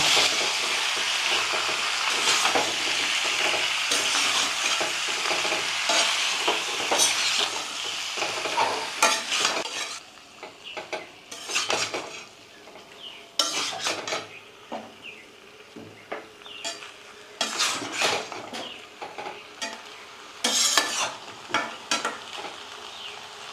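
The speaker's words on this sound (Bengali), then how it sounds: "ভালোভাবে এখন কষিয়ে নেব।" Desi chicken with cauliflower, turmeric powder and salt sautéing in a wok, a steady loud sizzle with repeated scraping stirs that turn more intermittent in the second half.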